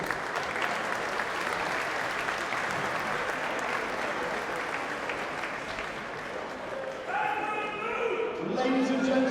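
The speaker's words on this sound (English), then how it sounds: "please a huge round of applause" Crowd applause fills a boxing venue after a cruiserweight title fight ends, a broad, steady roar of clapping that continues as a loud announcer's voice comes in near the end.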